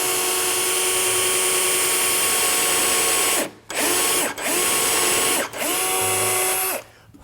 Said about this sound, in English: go ahead and drill